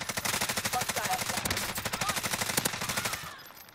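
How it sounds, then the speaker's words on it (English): Rapid automatic gunfire rattles continuously for several seconds in the video game Call of Duty Warzone, a dense, steady string of shots that cuts off abruptly at the end. "Yep, they're shooting up here."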